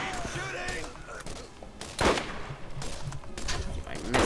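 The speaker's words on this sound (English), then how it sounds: "I'm going to use a pistol." Pistol shots ring out in the video game Borderlands as sharp, separated bursts, one loud crack standing out midway, set against busy game sound effects and background noise.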